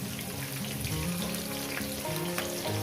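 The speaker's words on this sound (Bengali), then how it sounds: "পেঁয়াজটাকে দিয়ে আমি একটু দু মিনিট ভেজে নেব" Chopped onions fry in a pan for a fish curry with vegetables, giving a steady, moderately quiet crackling sizzle throughout, with no voices.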